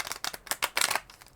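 Tarot cards being shuffled by hand, a quick run of crisp riffling bursts and flutters, close and fairly quiet, with no talk.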